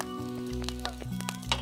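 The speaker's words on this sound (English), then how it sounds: "So when it's sizzling like this, that means it's ready." Egg frying on a stovetop pan while making sushi, a steady sizzle with small crackles and pops over a constant background hum, no voices.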